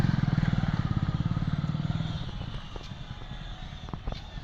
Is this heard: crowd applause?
no